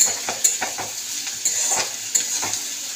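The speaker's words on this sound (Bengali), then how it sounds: "পেঁয়াজটা একটু ভাজা ভাজা হয়ে যায়, পেঁয়াজটাকে একটু উপর নিচে দিতে করে দিতে হয়, এই যে এরকম করে" Onions frying in a pan for chicken kosha give a steady sizzle while a spatula tosses them, with repeated sharp scraping clicks against the metal in an irregular stirring rhythm.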